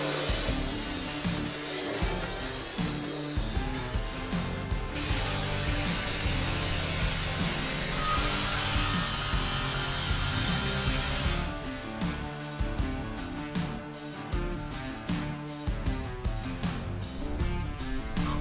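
A saw cuts metal crossbars for a DIY 10kW solar panel tilt mount, producing a continuous loud rasping grind that shifts into rhythmic strokes near the end, close by with no talking.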